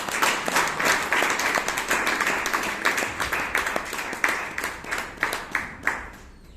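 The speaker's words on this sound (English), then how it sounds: "with a huge round of applause, please help me welcome our general evaluator" A Toastmasters meeting audience welcomes the general evaluator with a round of applause, many hands clapping near the microphone, then thinning out into fewer, more distinct individual claps as it fades.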